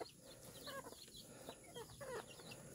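Native chickens in a small backyard pen in the provinces cluck softly and intermittently, several short calls scattered over quiet farmyard background, faint and close.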